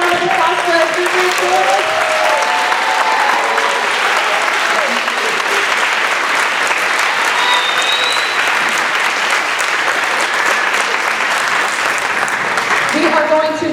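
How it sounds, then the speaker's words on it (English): A crowd, including young schoolchildren, gives speakers a loud, prolonged round of applause, dense clapping holding steady for over ten seconds with shouts and cheers mixed in. "We have one more really loud round of applause for our speakers"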